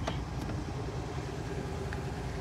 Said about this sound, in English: You can leave the truck running and definitely leave it in park.